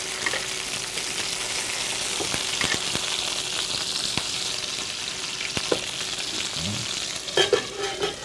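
Quail fries in a pan with fresh thyme, a constant moderate sizzle and spatter with scattered pops and a few clinks near the end, no voices.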